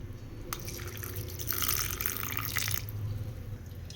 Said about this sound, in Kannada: ತೊಗರಿಬೇಳೆನ ತೊಳ್ಕೊಳ್ಳೋಣ